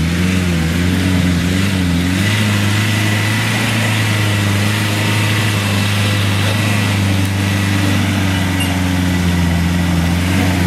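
A Perentie four-wheel drive engine strains up a slippery hill, a steady loud droning rev held close throughout with a slight rise and dip in pitch partway through.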